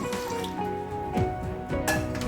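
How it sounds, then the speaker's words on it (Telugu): Water splashes and trickles into the metal base of a steamer pot for idiyappam, a steady pouring gurgle with faint clinks, fairly close and moderately quiet. "ఇట్లా తీసి 1 గ్లాస్ వాటర్ పోసుకుంటాము"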